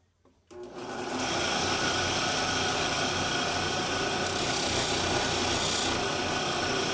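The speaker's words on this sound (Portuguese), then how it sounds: "Eu faço um polimentinho na frente aqui. Pra ficar com acabamento melhor, né?" A motorized polisher spins up and then runs steadily against the bronze bolster of a knife handle, giving a loud, continuous close-up whirring and grinding friction sound.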